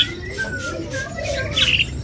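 A caged Asian pied starling (jalak suren) sings with bright whistles and chirps, some sliding, against busy background noise at a bird market kiosk.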